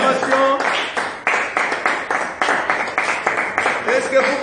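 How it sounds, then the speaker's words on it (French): A church congregation applauds during a French-language sermon, a steady rhythmic clapping that carries on throughout with voices mixed in. "donnons une acclamation"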